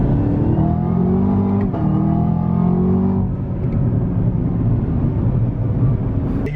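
A Chevrolet Camaro ZL1 accelerating hard, a loud rising engine roar heard from inside the car that builds for about three seconds, then gives way to a steady rushing drone of road and wind noise.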